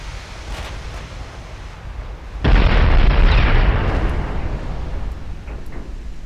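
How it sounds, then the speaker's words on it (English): A 14-inch naval gun shell strikes an Iowa-class battleship in a naval warfare game, a sudden loud booming impact midway that rolls on into a long rumbling, surf-like decay over steady background noise. "direct hit from a 14-inch gun. Barely scratched it."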